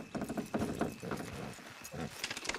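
Horses trot in Red Dead Redemption II, their hooves clip-clopping rapidly and unevenly at moderate distance over a background of rustling and muffled game sounds.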